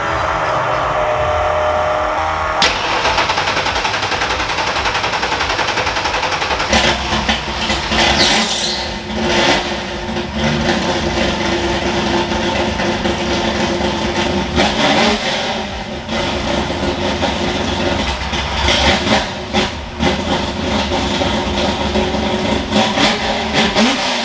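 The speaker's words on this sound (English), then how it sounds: "So I'm going to fire it up, put it in gear, look at the tail shaft of that thing" A Ford F100 truck engine fires up and runs, a loud, close mid-range rumble that holds steady with occasional revs, and no talk over it.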